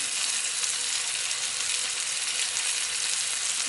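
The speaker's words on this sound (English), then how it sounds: "as in frying off your lamb chop, should take you about 5 to 8 minutes, just until all the sides are brown" Lamb chops fry in a hot pan, giving a steady, dense sizzle and crackle of fat that carries evenly from start to end, close up and alone without any talk.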